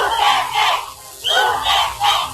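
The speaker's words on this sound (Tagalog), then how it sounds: "akala ninyo, sigaw kami dito ng malakas na Duterte" A large crowd loudly chants the name Duterte in repeated rhythmic shouts, the massed voices rising and falling in unison.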